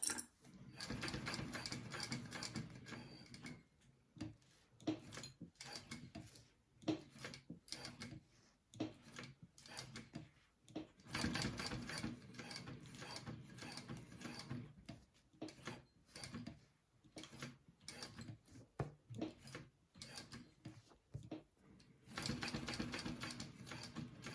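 A sewing machine stitches around the edge of a wallet in repeated bursts of rapid mechanical whirring. Short pauses separate the runs, and the machine sounds close and fairly clear.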